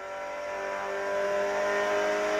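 A racing car in a smartphone driving game accelerates with a rising, sustained engine whine that builds gradually in loudness and stays steady, with no voices over it.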